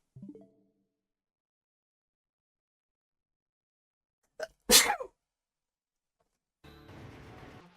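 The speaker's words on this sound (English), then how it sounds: "I have to sneeze." A man lets out a single high-pitched sneeze, short and sharp, after a faint vocal sound and a long quiet pause, followed by some soft low-level noise.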